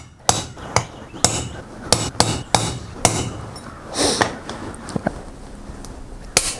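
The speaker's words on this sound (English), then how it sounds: "we have to get a hammer and a chisel, pound down in 4 corners a couple times." A hammer drives a chisel against a GM 14-bolt rear hub, ringing metal strikes landing about every half second, loud and close, with no talk.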